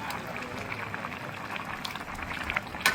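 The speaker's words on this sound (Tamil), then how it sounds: "பாருங்க கறி எப்படி பொறிச்சு போட்டிருக்காங்க" Curry sizzles and bubbles steadily in a hot pan, a dense crackling texture at moderate volume with a few sharper pops near the end.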